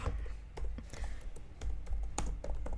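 Rapid keystrokes on a computer keyboard while entering a full name into a form, close and fairly quiet, with irregular clicks in short bursts.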